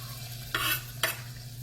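Scallion whites hitting melted butter in a pan, two short bursts of sizzling stir over a quiet steady background hum.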